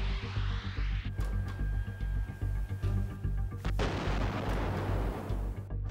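A Bradley fighting vehicle's turret-mounted 25mm autocannon firing, heard as heavy booming reports and crackling bursts in quick succession over a deep rumble, loud and close, with no talk.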